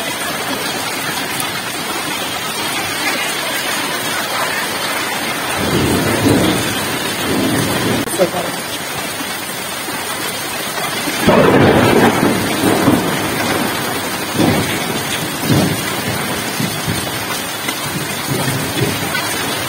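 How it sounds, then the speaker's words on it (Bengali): Steady rain pours down before iftar in a Bangladeshi home setting, with a constant hiss of drops on surfaces and low rumbles of thunder swelling twice in the middle. "ইফতারির কিছু আগেই এই বৃষ্টিটা হয়ে যাচ্ছিল আর আমরা সবাই খুবই উপভোগ করছিলাম"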